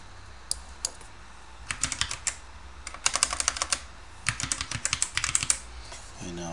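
Computer keyboard being typed on in irregular bursts of crisp, close key clicks with short pauses, used while retyping a password to log in to a data portal.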